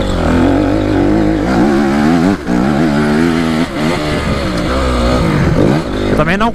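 A Honda CRF 250 R dirt bike roars close by on a dry track. The loud, continuous engine tone rises and falls as the rider works the throttle, ending in sharper revving bursts.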